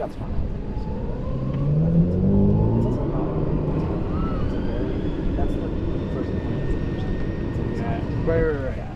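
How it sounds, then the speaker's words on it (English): Princeton University's Big Bird electric boat: an electric motor and gear whirs and rises in pitch as it pulls away, a steady mechanical whine over water and engine rumble, with voices talking nearby. "you can hear that electric motor gear combo as he starts to pull away"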